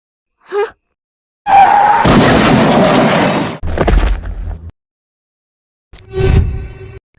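A loud crashing car impact in Sakura School Simulator with crunching, broken noise, followed by rumbling and a second shorter burst; a brief vocal gasp comes just before.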